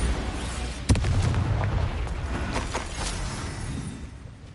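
A Bombarda blasting spell in Hogwarts Legacy goes off with a sharp boom, followed by a rumbling, crackling burst of explosive debris that settles into a low roar.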